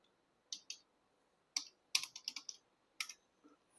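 Keys clack on a computer keyboard while code is typed into a PHP web form, in short separate bursts of quiet, crisp clicks with pauses between them.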